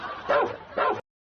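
A dog gives two quick, close barks about half a second apart, then the sound cuts off abruptly.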